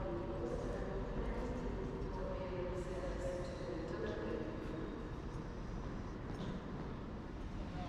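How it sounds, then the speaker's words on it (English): An LNER Class 801 Azuma train sits at a station, giving a steady, fairly distant low rumble and hum that fills the background without sharp changes. "here's our ride down to London today in the form of this rather snazzy looking Class 801 Azuma train"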